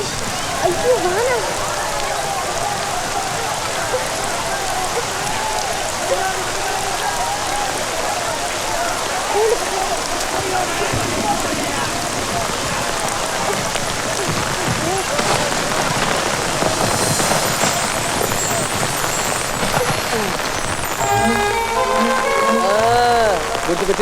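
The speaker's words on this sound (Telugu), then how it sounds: "అయ్యో వాన." Rain falling steadily in a village scene from a Telugu film, a dense continuous patter with voices and a musical score mixed in over it.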